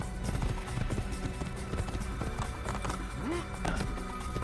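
Horse hooves clip-clop at a steady trot in the Assassin's Creed video game, a continuous run of close, rhythmic thuds over game ambience, with a brief higher whinny-like sweep partway through.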